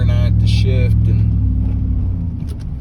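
A car with a 4L60E automatic transmission running without its servo snap ring, heard from inside as a low, steady engine rumble and road drone that eases off toward the end, with a voice talking briefly over it early on.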